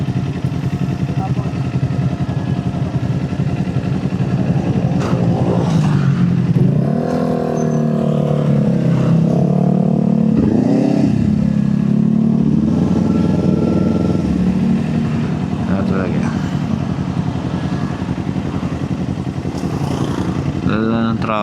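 Dense road traffic during a motorcycle ride, with engines droning and revving steadily close by, loud wind and road noise throughout, and voices talking over it.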